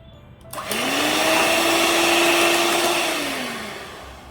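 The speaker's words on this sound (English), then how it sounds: "I will add vanilla essence to the egg yolks and beat it and keep it aside" An electric hand mixer beats egg yolks with vanilla essence for cake batter, a steady whirring motor hum that starts abruptly, holds for about three seconds, then winds down as the beaters slow.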